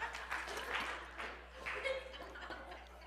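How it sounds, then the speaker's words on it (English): Audience applause and a few chuckles fill a sermon hall for about three seconds, a steady mid-level clatter of hands with some voices mixed in. "A big clap."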